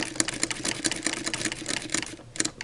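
A sewing machine stitches muslin fabric in rapid, uneven bursts of needle clatter with brief hesitations, fairly close and moderately loud, with no talking.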